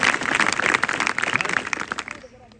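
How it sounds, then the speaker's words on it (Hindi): An audience bursts into loud, dense clapping that stays strong for about two seconds and then dies away, with some voices mixed in. "वेरी गुड, जोरदार ताली हो जाए।"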